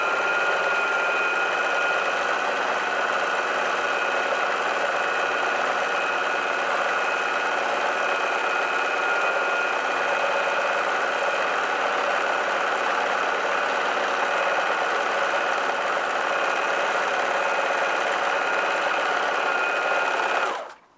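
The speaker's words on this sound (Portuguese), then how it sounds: "E vamos costurar." A sewing machine stitching a cushion cover runs steadily at close range, a continuous rapid mechanical whirr and patter that goes on without a break before stopping abruptly at the end.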